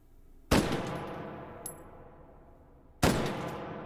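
Two single gunshots from a Galil assault rifle in the VR shooter H3VR, loud sharp cracks about two and a half seconds apart, each trailing into a long decaying echo, with a faint metallic clink in between.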